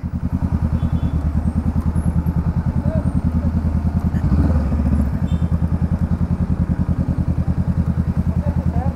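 A Honda Rebel 500 motorcycle rolling through traffic on EDSA, its engine chugging in a steady close pulsing throb with a brief louder surge midway, with faint traffic noise around.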